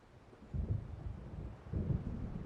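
Low rumbling thunder from an approaching storm in Alan Wake Remastered rolls in two deep, muffled swells over faint wind, distant rather than sharp, with no talk.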